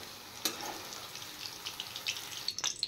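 Paneer frying in a pan for a paneer curry, giving a soft, steady sizzle with light crackles and a few sharp pops toward the end, close by and moderately quiet, with no talk.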